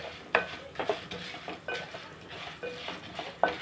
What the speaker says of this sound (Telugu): మనం ఇలాగా గోల్డెన్ కలర్ వచ్చేదాకా వేపేసుకోవాలండి.